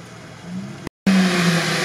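Engine of a stuck car being rescued off-road, loud and close, cuts out for an instant and then surges back in a strong, sustained rev.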